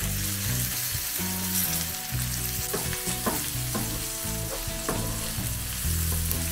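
Curry leaves sizzle hard as they drop into hot oil for a Bengali prawn roast, a loud steady crackle with stirring clatter over it.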